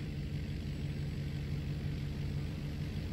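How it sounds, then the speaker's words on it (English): A diesel Power Stroke pickup truck engine in the Farming Simulator 19 video game, a steady low rumbling drone at constant revs, close and even throughout with no talking. "Love the sound of this truck."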